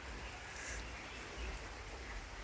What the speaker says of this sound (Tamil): இப்படி தாங்க நல்லா கண்டினியூஸாக மழை வந்துகிட்டே தான் இருக்குது.